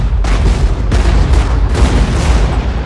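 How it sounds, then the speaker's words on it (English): Explosions and shellfire fill the battlefield soundtrack of a World War II combat film, a constant roar of overlapping booms with several sharp, loud blasts punching through the heavy rumble. "A lot of explosions and shells in the background, much more than in Saving Private Ryan."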